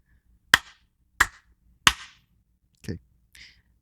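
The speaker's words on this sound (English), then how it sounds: "Clap for me." Three sharp hand claps at a steady pace, close and dry, then two softer, uneven claps trailing off, with a quiet room behind them.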